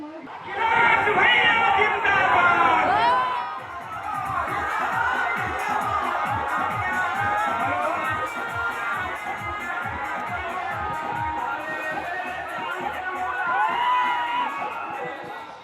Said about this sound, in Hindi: अखिलेश यादव की रैली में बेकाबू हो गई है भीड़